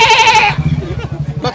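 A man mimics a goat with a short, loud, quavering bleat, then drops into ordinary speech that continues to the end.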